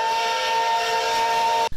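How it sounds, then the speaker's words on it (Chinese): An 80-year-old steam locomotive on a test run gives a loud, steady steam whistle blast mixed with hissing steam, cutting off abruptly at the end. "火车头喷出白色蒸汽，起步顺利往前开。"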